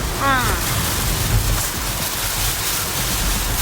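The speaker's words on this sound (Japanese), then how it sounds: "すごい雨だ。" Heavy typhoon rain pounds steadily on a camper van driving along a road, a dense, loud, unbroken roar of water with a faint whistling wind tone early on.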